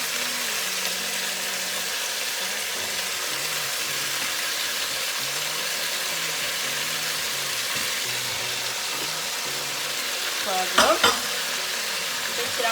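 Onions and pepper fry in a pan for a green bean sauce, giving a steady, close sizzle with occasional stirring, and a brief clatter near the end.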